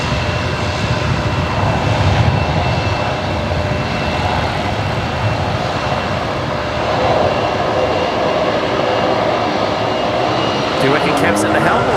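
A Qatar Airways Airbus A330neo airliner taxis toward the international terminal at Brisbane Airport, its steady engine roar broad and continuous throughout, with people talking over it.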